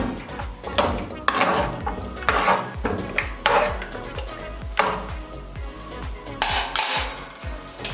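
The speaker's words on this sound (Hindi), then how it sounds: "इसको अच्छे से मिक्स कर लेंगे।" Repeated metal clinks and scraping of a utensil against a pressure cooker, steady rhythmic stirring of mutton with water for nihari, close and fairly loud with no talking.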